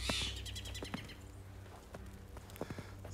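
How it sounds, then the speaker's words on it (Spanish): Small birds sing and chirp up high in a snowy outdoor scene, their faint, scattered tweets carrying over a low steady background, with a few soft clicking knocks. "Se oye el cantar de los pajaritos aquí arriba."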